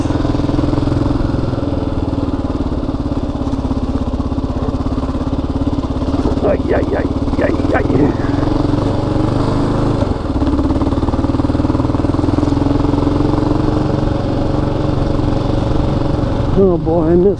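A 2016 Kawasaki KLR 650 motorcycle riding off-road on dirt, its engine droning loud and steady throughout with slight rises in revs, close up, under occasional talk.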